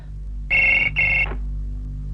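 A telephone rings in two clear electronic bursts over a low steady hum, in an indoor setting, with no talking.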